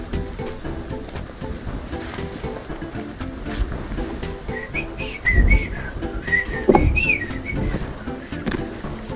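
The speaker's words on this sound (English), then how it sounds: "Stop with your whistling." A person whistles a short rising and falling tune during a Sons of the Forest game session, clear over the game's steady rain-like ambience and low rumbling sounds.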